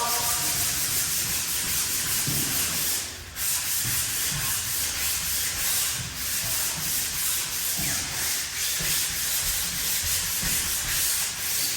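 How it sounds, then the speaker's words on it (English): Continuous harsh abrasive scraping of sanding drywall in a garage, with repeated rhythmic strokes and brief pauses between passes. "if you guys can hear me over my sanding"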